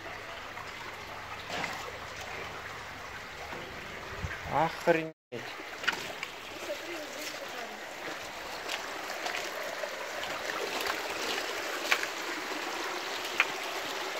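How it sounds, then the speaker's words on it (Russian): Steady rushing and trickling of water flooding into a house close by in Chon-Aryk, with a brief exclamation from a voice partway through. "Вот полная вода заходит в дом."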